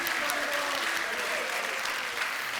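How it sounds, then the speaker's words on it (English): Studio audience applauding a guest on a live London comedy show, a steady wash of clapping throughout at moderate loudness with some crowd murmur mixed in. "Round of applause for Steve."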